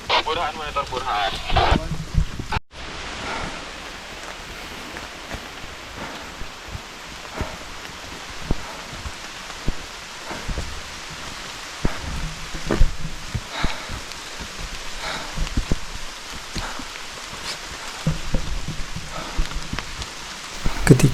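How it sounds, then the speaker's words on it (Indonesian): Drizzling rain falls on a mountain hike on Mount Ciremai via the Apuy route in West Java, a soft continuous patter mixed with wind buffeting the microphone, rustling, and occasional voices. "Gerimis hujan."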